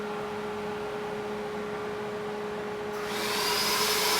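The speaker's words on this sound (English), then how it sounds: "We're sucking more plastic into the injection unit with that vacuum loader." A vacuum loader on a production injection molding machine draws plastic into the injection unit: a steady mechanical hum with a constant tone, then a sudden loud surge of rushing, hissing suction near the end.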